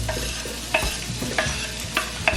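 Garlic and onion sizzle in a hot pan while being stirred, with a steady frying hiss and a scraping stroke roughly every half second. The sound is close and busy, with no voices.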